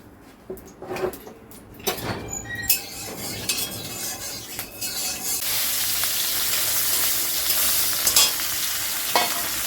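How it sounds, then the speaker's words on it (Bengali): Fish pieces frying in a pan, starting with clinks and scrapes of stirring, then building into a loud, continuous sizzle close by with occasional utensil taps. "মাছ তো ধোয়াই হয়নি এখনো, এক পিস দিয়ে ভাজা দেয়"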